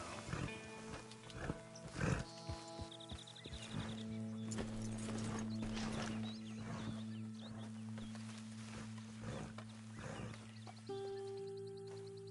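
Horse hooves clip-clop at a steady walking pace in Red Dead Redemption 2, moderately close, over a low ambient drone with occasional tonal game sounds.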